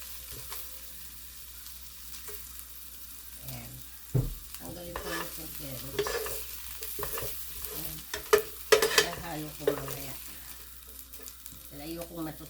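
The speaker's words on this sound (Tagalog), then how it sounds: "At ilalagay ko na yung pork." Pork hits a pan with little oil and is stir-fried, a soft sizzle punctuated by sharp scraping and clanking of a utensil stirring, close and intermittent.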